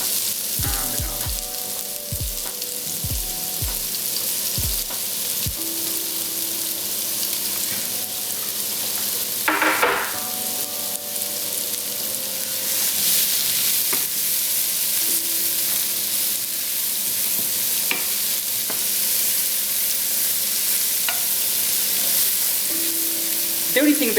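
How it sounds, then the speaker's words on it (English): Onions frying in a pan for white truffle mushroom risotto give a steady, close sizzle throughout, with a few soft knocks at the start and occasional clatters from stirring. "And now it's time for the onions."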